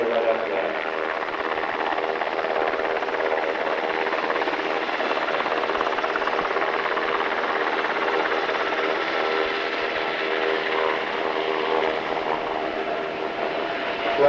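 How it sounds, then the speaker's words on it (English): A helicopter at an airshow in Salinas, California, produces a steady, loud rotor and engine drone that holds continuously without clear change for the whole stretch. "Now the helicopter leaves him on the ground."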